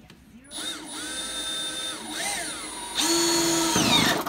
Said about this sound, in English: I'll put this on drill.